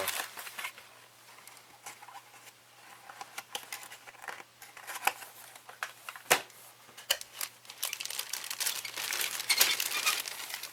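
Plastic parts of a Hasegawa 1:48 F-14A Tomcat model kit, still sealed in their bags, are packed back into the box: soft crinkling and rustling of plastic bags with scattered light taps and patters, close and fairly quiet, no voices.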